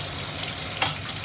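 Steady, close sizzle from a pan while something caramelizes for fish escabeche, with one brief metallic clink partway through and no talking.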